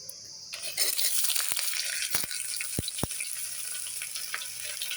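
Onions hit hot oil that has been tempered for a dhaba-style mutton curry, setting off a sudden bright hiss and sizzle that keeps going close by, dotted with a few sharp clicks of a utensil.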